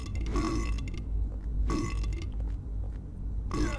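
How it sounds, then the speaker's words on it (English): Burping enemies in the horror video game Silent Hill 4, three loud wet belches in a row spaced about a second and a half apart, heard alone without talk. "they're going to have to burp their way down the stairs."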